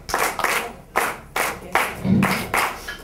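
Hands clap steadily, about two claps per second, near and loud, keeping time with bomba and plena music and filling the space alone without overlapping voices.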